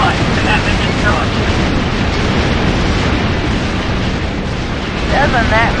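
A spacecraft blows up in the space combat game X-Wing Alliance, a loud, continuous rumbling explosion filling the whole moment, with faint radio-style chatter at the start and end.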